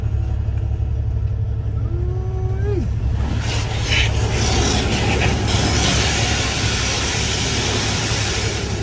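High-pressure water spray hitting a W9 truck and trailer at a truck wash, a loud continuous rushing hiss over a low engine rumble, with a brief rising tone near the start.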